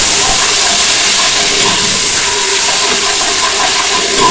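Ginger garlic paste fries in a pot with a loud, dense, steady hiss that holds evenly for a few seconds with no voice over it.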